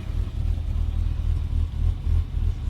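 A 1991 BMW 325ix E30 engine holds a steady, uneven idle with a low, throbbing rumble and slight revving surges, close and loud, with no talking.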